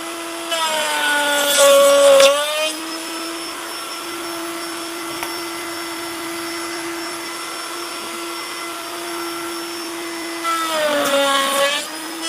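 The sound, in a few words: sawing wood for a bee box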